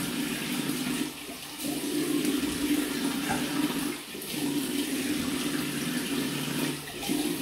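Water runs steadily from a bathroom tap as shaving soap is rinsed off, a continuous close rushing stream that briefly dips in level a few times, with no voices.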